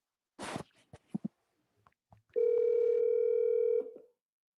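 A phone dials out on a live call-in show, with a few clicks and short blips, then a steady electronic tone holding for about a second and a half before cutting off.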